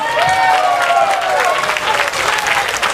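A protest crowd at a Singapore population white paper rally breaks into loud, dense clapping that fills the space, sustained throughout with cheering voices mixed in.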